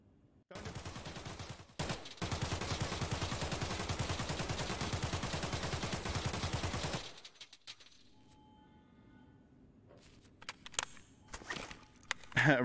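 A dense, rapid burst of automatic gunfire from recoil control training in Escape from Tarkov runs loud and continuous for several seconds, then drops to quieter game ambience with a few scattered sounds and a voice.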